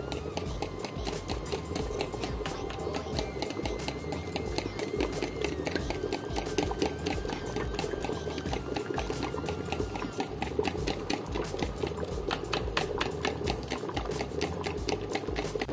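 Hot broth being stirred into an egg yolk and lemon sauce for Greek meatball soup, a steady liquid churn and light rhythmic clinking of the utensil throughout, close and continuous.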